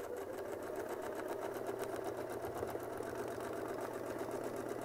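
A sewing machine stitches a quilt with a fast, even mechanical patter and motor hum, steady and fairly quiet throughout without speech.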